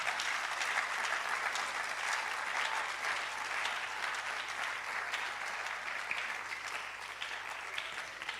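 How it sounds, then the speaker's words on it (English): Audience applause at a public lecture in a large hall, sustained even clapping from many people, moderately loud and continuous throughout. "Let's give them a big round of applause."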